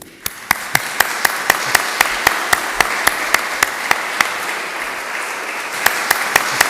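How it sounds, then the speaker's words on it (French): A lecture audience applauds a speaker, a broad wash of clapping with a few sharp, regular claps ringing out near the front. "On peut l'applaudir."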